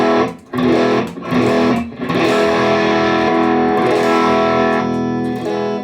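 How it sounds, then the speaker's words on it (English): Electric guitar played with heavy overdrive distortion, a few sharp chord stabs followed by a long sustained, gritty ringing chord. "and then we got more overdrive sounds like this"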